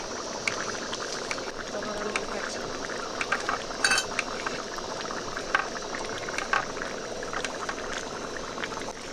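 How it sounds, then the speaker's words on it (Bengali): Pointed gourd and prawn curry (potol chingri) boils in a pan, a steady bubbling simmer with scattered light clinks of a utensil against the pan, and no talking. "দেখতেই পাচ্ছ আমাদের পটল চিংড়ি এখন ফুটছে"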